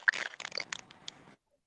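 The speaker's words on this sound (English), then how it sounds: "I'm hearing something crunching." Crunching noise on an audio line: a burst of close, dry crackling and scraping crunches over about a second and a half, fairly loud at first, then fading before cutting off into silence.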